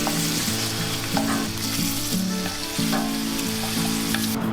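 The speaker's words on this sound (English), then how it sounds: "Handful of bacon, chopped, on the pan. A little bit of olive oil. Cook it till it's nice and crispy." Chopped bacon fries in a little olive oil in a pan, giving a steady, close sizzle that runs throughout with a low droning tone underneath.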